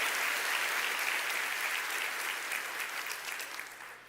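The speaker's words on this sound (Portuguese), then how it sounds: "Se for para aplaudir, aplauda bem lindo." Church congregation applauding during a sermon, a dense, steady wash of clapping from many hands that holds for a few seconds and then fades out.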